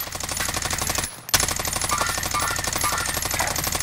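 Automatic weapon fire in Call of Duty: Modern Warfare rattles in a steady, rapid stream, pausing for a fraction of a second before resuming just as loud and close.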